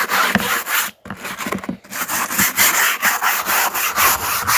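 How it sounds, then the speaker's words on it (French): Wire brush scrubbing an interior trim panel of a BMW E36 325 tds sedan, loud rapid back-and-forth rasping strokes with a brief pause partway through, then steady scrubbing resumes. "un petit coup de brosse métallique partout"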